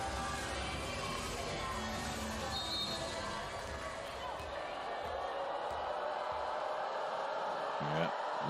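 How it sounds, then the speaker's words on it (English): Crowd at a EuroVolley 2023 women's volleyball match between Türkiye and Sweden: a steady, distant roar of cheering and noise from the stands, filling the whole stretch with a slight swell late on, under commentary. "Yeah, listen to the crowd."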